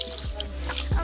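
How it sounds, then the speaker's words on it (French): Running water splashes and drips close by in a salon wash basin as hair colour is rinsed out, with a few sharper drops over the steady flow. "je vais rincer la couleur"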